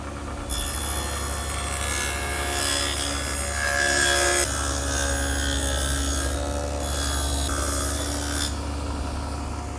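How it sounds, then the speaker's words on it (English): A table saw fitted with an adjustable dado head cuts a groove along a long wooden piece, a loud sustained whirring drone with a rising rasp as the wood feeds through. "put a groove down the inside edge of the 2 long pieces. And I've set up my table saw with the adjustable dado head cutter"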